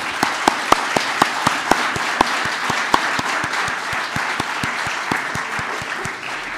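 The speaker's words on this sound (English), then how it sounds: "I suggest we give them an applause" Audience applause at a conference plenary session on gender equality in the Arctic: a sustained wash of clapping from many hands, fairly close, with a few sharp individual claps standing out early on before it gradually thins.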